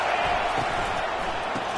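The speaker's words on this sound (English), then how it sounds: "Decibels rising as the crowd gets behind this defense on 3rd down." A dense stadium crowd roars at a steady loud level on third down at a football game, a wide wash of cheering noise with no distinct claps or voices standing out.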